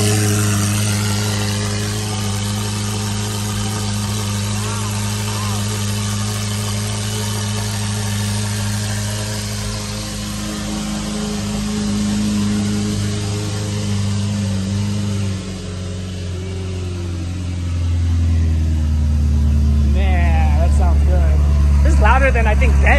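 A tuned twin-turbo Ferrari 488 Pista with upgraded turbos, built for over 1,000 horsepower, idles with a steady deep rumble, then revs up near the end. People talk over the engine throughout.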